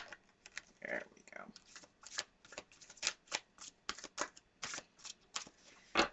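Tarot cards being shuffled by hand, a dense stream of quick riffling flicks and slaps in uneven bursts, close and fairly quiet, with a faint voice briefly present.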